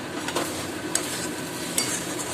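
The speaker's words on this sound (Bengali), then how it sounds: "দিয়ে এবার নাড়বো এটা লোটে মাছের ঝুড়ো" Fried dried Bombay duck fish crumble stirred in a pan, a continuous close sizzle with a few sharp scrapes and clinks of the spatula against the pan.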